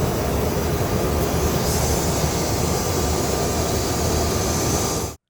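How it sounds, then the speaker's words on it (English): Steady, loud broadband roar of cabin noise recorded at the back of a commuter jet, constant throughout and cutting off abruptly at the end. "Here's unamplified video taken from the back of a commuter jet."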